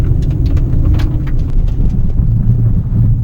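A Proton Persona VVT car accelerates along the road, its engine drone rising under steady road and wind roar from inside the cabin, loud and continuous with no voices heard.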